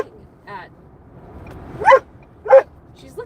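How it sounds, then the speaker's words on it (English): A dog barks indoors at something outside the window: a few short, sharp barks and yips, fairly close, with quiet room tone between them. "What are you barking at?"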